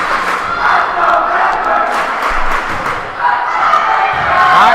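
Crowd noise at a high school volleyball match, spectators yelling and cheering steadily for the home team in a gym, loud and continuous with swells of shouting throughout.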